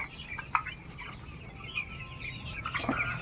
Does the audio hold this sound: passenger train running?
no